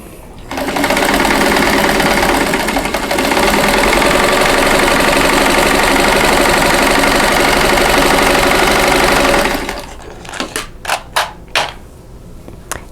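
A sewing machine stitches along drawn lines on a butterfly quilt block, running loud and steady for about nine seconds before stopping, followed by a few short sharp clicks or taps.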